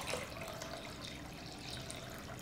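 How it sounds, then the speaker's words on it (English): Water poured steadily into a container while making a first batch of homemade kombucha, a continuous close splashing hiss with no talk. "now I'm gonna add the water"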